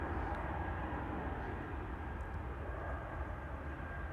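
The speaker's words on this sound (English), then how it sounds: "this time is flying for Austrian, a Bombardier C-Series 300 to Vienna" An airBaltic Bombardier C-Series 300 jet flying for Austrian to Vienna gives off a faint, distant, steady engine hum at Amsterdam Schiphol, low and even throughout with no other sounds standing out.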